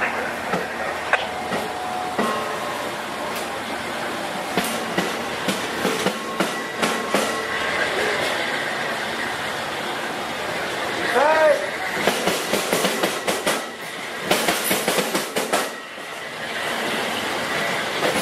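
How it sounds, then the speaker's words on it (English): Amtrak 89 passenger train pulling out southbound from its stop in Selma, a long steady rumble of rolling cars with rhythmic wheel clicks, occasional squeals and louder clatter bursts later on. "There we go, Amtrak 89, southbound by Selma."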